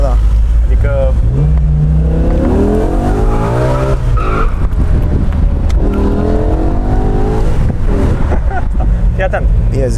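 Mercedes E63s AMG with 612 horsepower, engine warmed up, giving a steady loud rumble and rising revs under continuous conversation inside the car.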